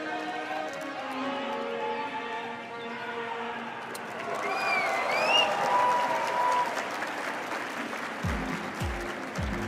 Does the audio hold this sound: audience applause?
yes